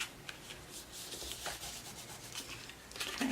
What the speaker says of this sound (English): just rub that, make sure it's adhered nicely